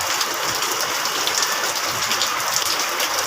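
Steady rain pours down on a chicken gameyard, a dense continuous hiss of drops falling on surfaces, with no voices.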